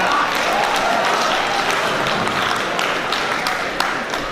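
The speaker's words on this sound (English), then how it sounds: "a round of applause to 12th graders" A school community meeting audience applauds the 12th graders, a steady dense wash of clapping with a few sharper claps standing out, moderately loud throughout.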